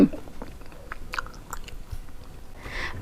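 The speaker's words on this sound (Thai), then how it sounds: "ขนมถ้วยจีน เดี๋ยวเรามาชิมกันดูค่ะ" Chewing and biting into soft, chewy Thai-Chinese steamed cup cakes (khanom thuai jin) topped with syrup, close and moist mouth sounds in short bursts over a few seconds, without talk.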